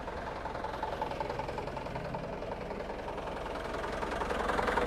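The diesel engine of a 2019 Mitsubishi Canter PS 125 HDV truck runs steadily with a rough, knocking rumble, heard close and alone, growing slightly louder toward the end.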